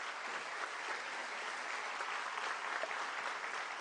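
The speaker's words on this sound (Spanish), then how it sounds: "reciba el aplauso cariñoso de las personas que están aquí." Audience applause for a former president at a national infrastructure congress, a broad, continuous roar of clapping from a large hall crowd, fairly distant and steady throughout.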